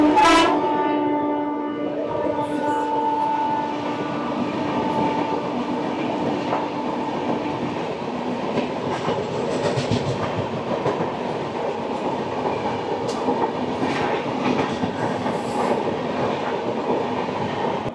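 Sealdah Ajmer Express passenger train running through Rajasthan, a loud continuous rumble with rhythmic clickety-clack of wheels on rails and a sharp horn-like tone at the start.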